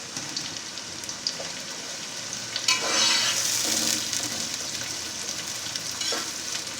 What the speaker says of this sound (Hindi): अब इसके अंदर प्याज डालेंगे, प्याज को ब्राउन करेंगे